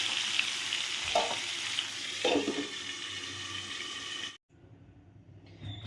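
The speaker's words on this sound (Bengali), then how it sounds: "আলুগুলো ভেজে নিচ্ছি" Potatoes frying in oil in a pan give a steady, close sizzle with a couple of stirring clatters, then the hiss drops suddenly as if covered and resumes faintly.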